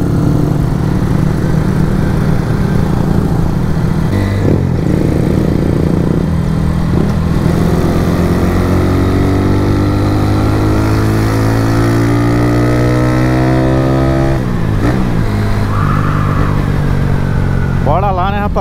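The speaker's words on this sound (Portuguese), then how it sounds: "Rapaziada, lembrando que essa aqui tá taxada no álcool, a do Jonathan também, as duas tá no álcool aí" Two ethanol-fuelled motorcycles, one fuel-injected and one carbureted, revving loudly and close by as the engine pitch climbs steadily through the gears, with a brief dip and a fresh rise toward the end.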